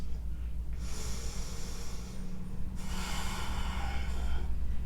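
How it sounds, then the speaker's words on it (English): Deep, slow breaths during a yoga flow, close to the microphone: one long breath in followed by a strong, airy exhale, over steady low background hum. "Two more deep breaths."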